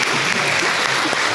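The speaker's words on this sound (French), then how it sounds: "Nous pouvons l'applaudir." An audience at a centenary Mass claps together in a dense, even burst of applause, brief and continuous from start to finish.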